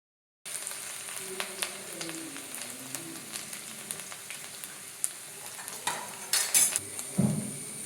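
Chopped ginger frying in coconut oil with popped mustard seeds and fenugreek in a pan, with a steady soft sizzle, occasional utensil clicks and scrapes, and a brief louder clatter near the end.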